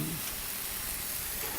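Onions and garlic sizzle steadily in a hot pan, a soft, even frying hiss that holds at low level from start to finish, with a faint low rumble underneath.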